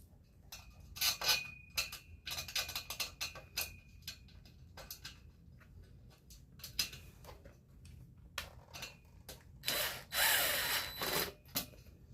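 Quiet, close ticking and ratcheting clicks come in irregular bursts as fasteners are snugged down while an FMS model plane stand is assembled, with a louder rattling burst near the end.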